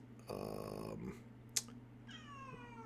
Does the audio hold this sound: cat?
yes